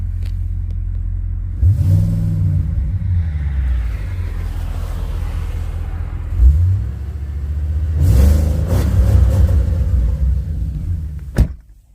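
A repaired Audi S8 engine runs close and loud, with a steady rumbling idle broken by two swelling revs. No one speaks.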